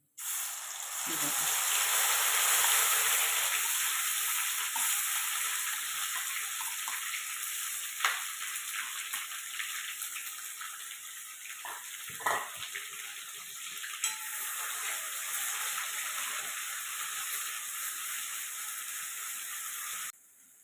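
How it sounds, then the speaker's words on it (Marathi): Masala paste for dhaba-style rajma masala sautés in oil in a pan, a soft continuous sizzle and hiss with a few sharp clinks of a spoon against the pan partway through. "आता याला असं मस्त तेल फुटेपर्यंत परतून घेऊ"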